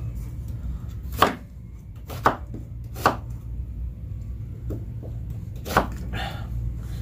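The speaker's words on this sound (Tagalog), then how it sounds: "maghihiwa tayo ng mga rekado mga kalabarkats para makapagsimula na tayo magluto" Knife chopping ingredients on a cutting board in a home kitchen, a few sharp separate knocks spaced irregularly over a low steady hum, fairly close and moderately loud.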